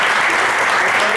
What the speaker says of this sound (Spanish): Vamos a darnos un aplauso.